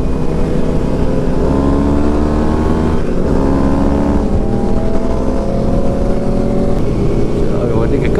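A KTM 1290 motorcycle engine during a group ride-out, droning loud and steady with layered harmonic tones that shift slightly in pitch, mixed with other engines and wind, under a talking voice.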